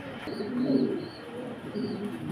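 A pair of Belgian racer pigeons coo in two low, rolling bursts, close and moderately loud, with a faint high chirp or whine above them.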